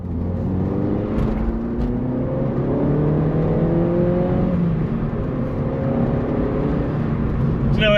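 A car driving steadily, its engine note rising and shifting through gears as it runs along, loud and close throughout, with no talk over it.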